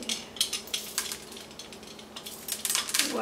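Small dry peppercorns drop into a jar in a quick scatter of light clicks and ticks, rattling and rolling against the glass in close, fairly quiet bursts.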